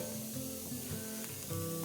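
Red wine poured into a hot pan for butternut squash soup sizzles and hisses briefly, fairly quiet and close.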